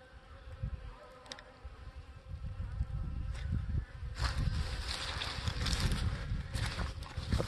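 Honeybees buzz steadily close by at a hive in winter, a dense droning hum that swells and fades as insects pass near.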